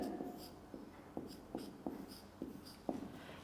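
Chalk or marker writing on a board during a chemistry lecture, a series of short scratchy strokes at a steady, faint pace with no talking over them.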